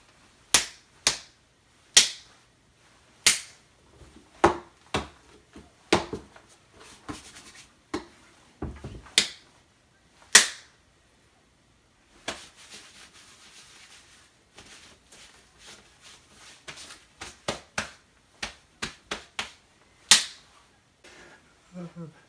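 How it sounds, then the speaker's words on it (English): Recorded punching sound effects: a series of sharp, dry smacks and thumps, some in quick pairs and others spaced apart, quiet overall with soft rustling between hits and no speech. "Now I'm gonna record some punching sounds."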